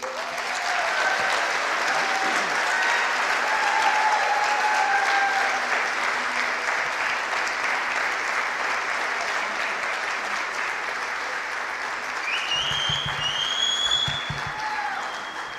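A ceremony audience applauds an award winner, Robin Vaughn, with sustained, even clapping that fills the room throughout, plus a few faint whistles and cheers above it.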